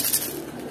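A racing pigeon gives a brief soft coo at a club loft as trained birds return home, close and alone for under a second.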